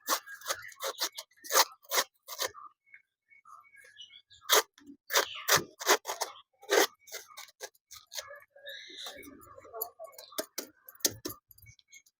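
Scissors snipping plants in a home garden, a series of crisp, close cuts in irregular clusters with short pauses between them, heard alone.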